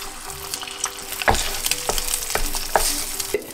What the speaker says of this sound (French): Et puis je vais faire cuire mes œufs.